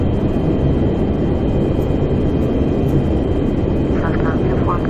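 Lockheed Tristar airliner engines on takeoff in a flight simulator, a steady, loud broadband roar with a thin high whine, with a voice in the background.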